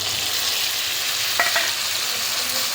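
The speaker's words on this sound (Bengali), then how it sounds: "এবার এই জলটা কিন্তু দিয়ে দেবো।" A ginger-garlic paste of chilli, turmeric and cumin powder stirred into water hits a hot pan, giving a loud, even hissing sizzle throughout with a couple of faint clinks of utensil on metal.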